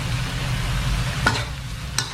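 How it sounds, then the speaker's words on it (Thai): Steady background hum with a couple of sharp scraping clanks of a utensil against a wok during stir-frying, no talking. "แล้วก็คั่วนะครับ"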